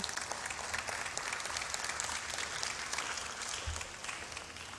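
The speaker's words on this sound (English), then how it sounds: "Please let's applaud them as they come." Guests at a closing and awards ceremony applaud as a group of participants walks up front, a steady, moderately distant round of clapping that gradually thins out toward the end.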